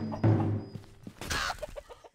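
A chicken in the video game A Township Tale gives a loud squawk followed by a run of short clucks, close and clear, with no talking.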